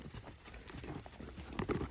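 Horse hooves clip-clop on a farm, a steady run of close, fairly loud thuds carrying on for about two seconds as the animal trots nearby.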